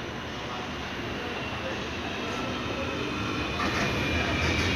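Steady rumble of a light rail train running through Maluri LRT station in Kuala Lumpur, a continuous broadband roar that swells slightly toward the end, with faint voices beneath.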